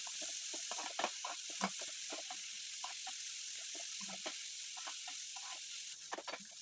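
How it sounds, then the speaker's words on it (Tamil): Onions sautéing in hot oil in a pan for prawn gravy, giving a steady soft sizzle with scattered crackles and occasional stirring scrapes, close and alone at moderate level. "ஒரு பேனில் ஆயில் ஊற்றி ஆயில் ஹீட் ஆனோன்னா வெங்காயம் போட்டு நல்லா வதக்கணும்"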